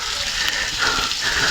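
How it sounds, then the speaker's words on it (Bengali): Water of a hillside waterfall on Chandranath hill in Sitakunda, Chattogram, rushes in a continuous loud broadband hiss, steady and close with slight surges, no voices. "ঝর্ণার পানিতে একটু মুখ ধুই"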